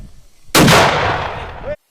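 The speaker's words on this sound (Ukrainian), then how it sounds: "Постріл!" A single loud artillery blast erupts after a brief quiet, in the Luhansk region, its boom rolling and decaying for about a second before cutting off.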